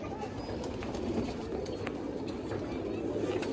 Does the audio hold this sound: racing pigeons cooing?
yes